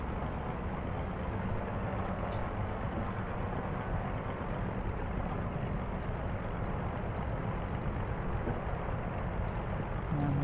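Simulated engine drone of a BN-2 Islander twin-engine aircraft in X-Plane 11, flying visual circuits at Kirkwall; a steady, constant broadband hum heard from the cockpit, fairly quiet and unbroken, with no voices.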